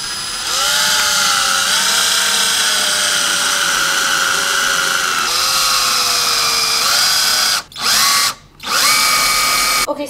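A power drill drives screws into a wooden dining table with a loud, close, high whine that holds for several seconds. The pitch shifts as the screw seats, and two brief stops come near the end before the motor resumes.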